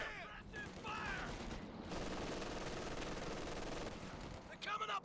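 Dense battlefield gunfire in Company of Heroes 2, a World War II strategy game match between Soviet and US forces, with sustained rattling volleys and bursts filling the whole stretch, and voices shouting over the din.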